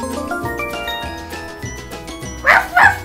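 A small trained dog gives two quick, bright yips near the end, heard over busy background music in a family kids' movie scene.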